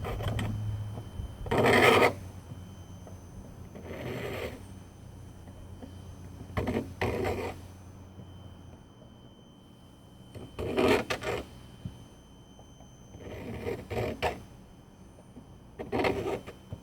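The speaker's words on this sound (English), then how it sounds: "So we're going to cut this outer jacket off here. I think I'm going to go ahead and use the hacksaw" A hacksaw works through the outer jacket of an antenna cable on a homemade 2 meter/440 J-pole antenna in several short bursts of rasping strokes separated by pauses, close and moderately loud with no talk.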